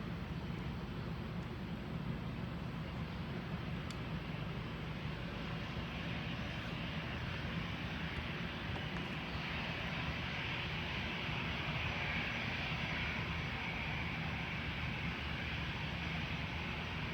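A Sichuan Airlines airliner in special painted livery rolls for takeoff at an airport, its jet engines a steady, distant broadband roar with no voices.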